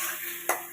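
Spices and taro are stirred in a pan for hilsa fish curry. A sizzling hiss carries a single sharp scrape of the spoon near the end, heard close and fairly quiet.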